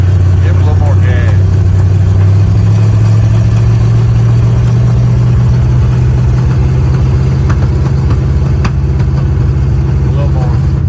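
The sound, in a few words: Ford F100 truck engine revving with more gas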